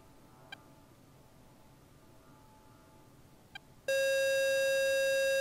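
In the DCS World flight game, a faint cockpit background with two soft clicks gives way to a loud, steady electronic warning tone that sounds without a break to the end.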